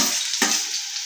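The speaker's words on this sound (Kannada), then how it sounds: "ಈಗ ಈರುಳ್ಳಿ ಹಾಕ್ತೀನಿ." Onion dropped into hot oil for tempering, a sharp burst of sizzling and frying with a stirring scrape, loud and close for about a second, no voices.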